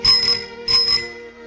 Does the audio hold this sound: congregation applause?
no